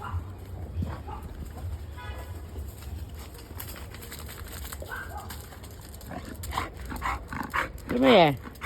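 A dog barks once near the end, a sharp close bark rising out of a steady outdoor background with some speech-like sounds.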